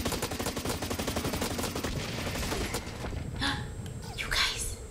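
Rapid automatic gunfire from the first-person shooter video game Blacklight Retribution, dense bursts of shots rattling continuously, with a few sharper high whooshing effects near the end and faint voices mixed in.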